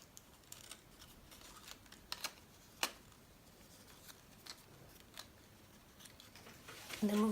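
Scissors snipping through card while making a folded butterfly greeting card, a few quiet, sparse crisp snips spread over a soft room background, with faint handling rustles between cuts.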